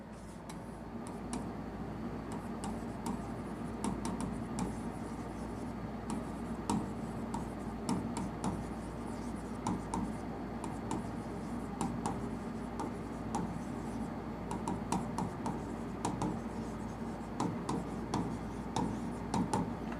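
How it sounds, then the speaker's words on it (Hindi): Chalk or marker scratches and taps steadily across a board in a classroom-style setting, a continuous run of short strokes with a low background hum and no talk. "तो मैं लिख देता हूं यहां पे"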